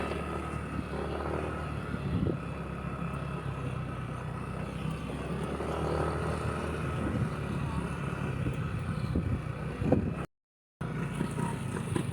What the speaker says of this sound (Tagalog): Parang ah, naging dirt bike na itong motor natin.